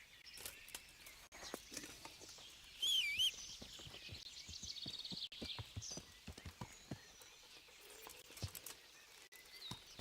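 Hooves clip-clop at a steady riding pace as a horse carries its rider in Kingdom Come: Deliverance, a quick, even patter of hoofbeats with a brief whinny partway through.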